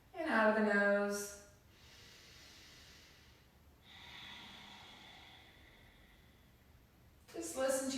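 During a seated chair-yoga breathing exercise, two soft airy exhales through the nose come between stretches of spoken instruction that open and close the passage.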